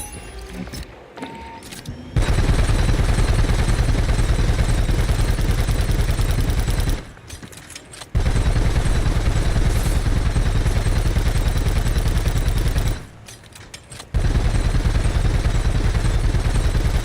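Rapid, continuous automatic fire from a Fortnite weapon, loud and dense bursts lasting several seconds each, broken by two brief pauses.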